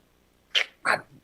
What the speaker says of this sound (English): From deep down in the bowels of the castle, you start to hear howling. Lots of howling.